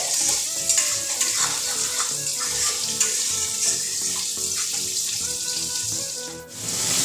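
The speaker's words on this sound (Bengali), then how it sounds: "একটু পরে পরে আমি নাড়া দিচ্ছি, দেখছি কতটুকু হলো" Spice masala fries in a pan while being stirred, giving a close, steady sizzle with repeated scraping and soft knocks throughout.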